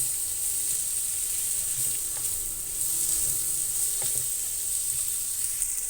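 Vegetables sizzle in a pan over a medium-high flame with a steady, close frying hiss that holds at an even level, broken only by a few faint clicks.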